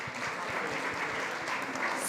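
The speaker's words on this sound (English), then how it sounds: "A round of applause, please." Audience applause at an SXSW food summit panel, a brief burst of steady clapping from a modest crowd, heard at moderate distance.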